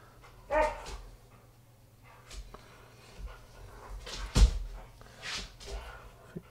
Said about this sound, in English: Dogs are trying to get my attention.